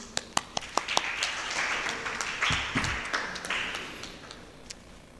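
Seminar attendees applaud a guest speaker and moderators, starting with a few sharp separate claps that swell into moderate, fairly quiet applause with some voices mixed in, then thin out toward the end.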